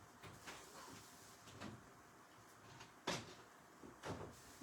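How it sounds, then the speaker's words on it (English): A kitchen or household drawer with a cord caught in it is opened and closed, giving a few soft sliding knocks and thumps spread across a quiet room, with one sharper bump near the middle. "The cord's caught in my drawer."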